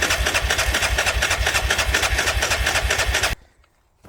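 A Grizzly 600 4x4 ATV engine runs close by with a fast, steady pulsing idle for about three seconds, then cuts out abruptly into near silence.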